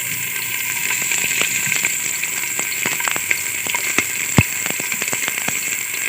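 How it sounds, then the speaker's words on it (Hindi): Onions fry in hot cooking oil for an ojri masala. A steady, close sizzle runs throughout, dotted with sharp pops and crackles, one of them especially loud, and no one talks. "हम यहाँ पर कुकिंग ऑयल लिया है और उसमें प्याज डालेंगे"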